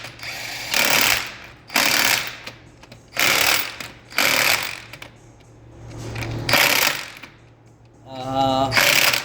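A brushless cordless impact gun with a socket removing wheel nuts, firing about six loud, close hammering bursts separated by short pauses, with a brief voice at the end.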